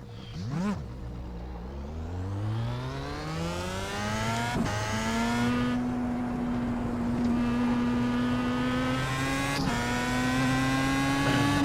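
A Star Mazda race car in iRacing at Watkins Glen, its engine rising in pitch through the gears as it accelerates flat out, with sharp shifts. The engine note stays loud and continuous, with no talk.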